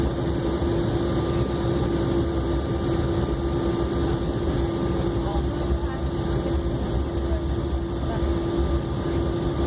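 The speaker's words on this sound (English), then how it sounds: "British Airways flight BA8752 taxiing for takeoff." A British Airways Embraer E190 jet taxis for takeoff at London City Airport, producing a steady, loud engine drone with a constant whine and rushing, wind-like noise that holds evenly throughout.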